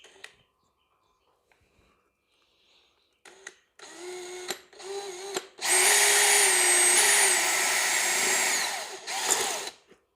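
An electric drill whirs in short bursts, then grinds steadily through a plastic light track for several seconds, loud and close, before spinning down.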